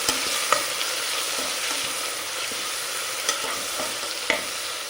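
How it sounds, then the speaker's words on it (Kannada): Tomato and onions fry in a pan with a steady sizzle while a spoon stirs and scrapes through them, sending out a few sharp clicks, for a Mangalore chicken sukka. "ಟೊಮ್ಯಾಟೋನು ಕೂಡ ನೀಟಾಗಿ ಬಾಡಿಸ್ಕೋಬೇಕು."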